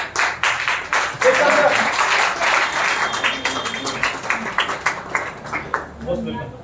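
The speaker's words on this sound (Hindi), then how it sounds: "अब आपके बीच में जोरदार तालियों के साथ स्वागत कीजिए सतीश राठौर जी का" Applause greets Satish Rathore at an International Women's Day ceremony in a national broadcasting head office, with dense clapping building and continuing under talk, fading into scattered claps near the end.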